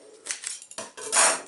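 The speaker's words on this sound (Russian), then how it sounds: "Давайте узнаем, вскрыв это с помощью волшебных чудо-ножниц и одной руки" Scissors cut open a parcel of helicopter parts, giving close, short snipping and crinkling bursts in an uneven rhythm with a louder rustle at the end.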